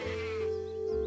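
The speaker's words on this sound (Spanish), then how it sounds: "viendo a las ovejas pastar" A cartoon sheep bleats in a single steady, wavering call, clear and alone in a grassy grazing scene.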